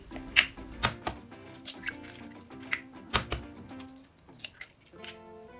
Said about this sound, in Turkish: Yumurtalarımızı güzelce kıralım